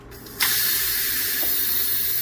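An Instant Pot electric pressure cooker is quick-released after cooking brisket, and its vent hisses with a sudden loud, steady rush of steam that keeps going unbroken, close by and with no talk.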